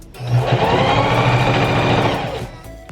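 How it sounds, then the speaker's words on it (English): A sewing machine stitching ribbon trim onto a tulle tutu, running in one steady, loud, close burst of about two seconds before slowing and stopping. "you're just gonna sew"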